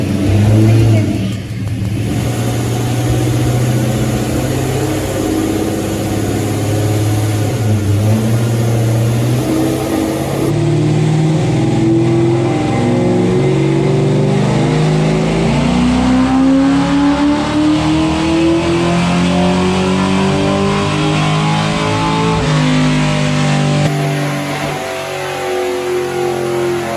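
An LS-swapped 5.3 V8 car engine roars loudly on a dyno, climbing through a long sustained rev with rising pitch, holding near full throttle, then briefly backing off and easing down at the close.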